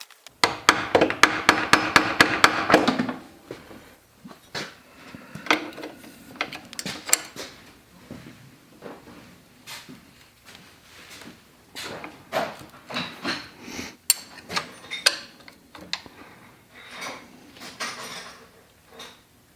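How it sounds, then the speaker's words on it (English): A hammer taps out a support bolt on a Honda Goldwing engine during engine removal: a dense burst of hard strikes at the start, then scattered metallic taps and knocks with pauses between them. "I'm gonna try and tap out this other support bolt"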